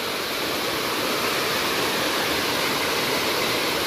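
A waterfall pours down a cliff near a hillside water tank, making a loud, continuous broadband roar of rushing water close by with no voices.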